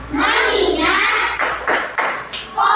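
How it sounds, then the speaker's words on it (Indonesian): Schoolchildren clap hands together in a classroom, rapid patterned bursts of clapping in several sharp groups with young voices mixed in. "tepuk tangan lagi dong"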